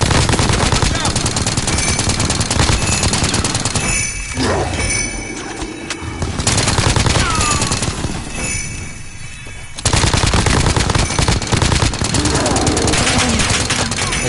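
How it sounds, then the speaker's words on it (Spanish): Loud, dense bursts of gunfire in rapid automatic volleys fill most of the stretch, with a brief lull in the middle before heavy shooting resumes; shouting voices are faintly mixed in. "Están disparando a la de izquierda"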